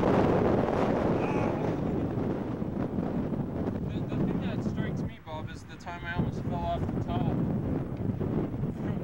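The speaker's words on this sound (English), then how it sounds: "As you can tell, it's pretty windy up here." Strong wind buffets the microphone high on the cliff face of El Capitan in Yosemite during a climb, a loud steady roar throughout with a voice briefly audible partway through.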